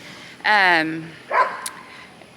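A dog out in the garden lets out a loud whining yelp with a falling pitch, then a shorter, fainter bark follows, with some quiet background noise.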